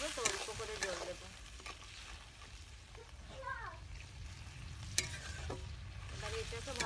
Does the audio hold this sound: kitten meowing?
no